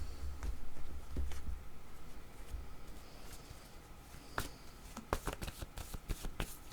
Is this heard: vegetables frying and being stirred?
no